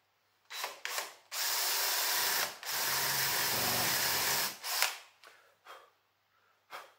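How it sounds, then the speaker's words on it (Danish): A power drill boring a dowel hole in wood, two short bursts and then two sustained whirring runs with a brief pause between, followed by a few short taps and rattles. "Så jeg borer bare her, sætter spidsen ned i."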